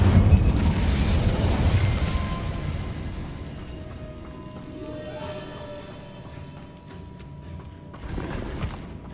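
The Incendio fire spell is cast in Hogwarts Legacy, a deep booming burst of flame that swells and then decays with rumbling crackle, followed by a second sharp burst near the end.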